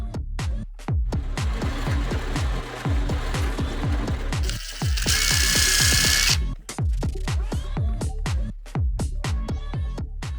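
A power drill drives screws through a sheet of old plexiglass into scrap plywood, close up. It gives a rapid train of rhythmic mechanical pulses and a brief higher whine midway.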